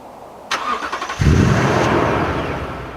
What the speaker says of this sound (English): if you press the lock button twice quick and then hold it, you can start the engine